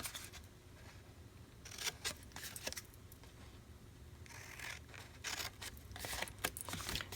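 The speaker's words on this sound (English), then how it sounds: "let's get the scissors out" Scissors snip through paper craft pieces for a Halloween project, a few short crisp cuts and crinkles at close range in a quiet room, with no talking.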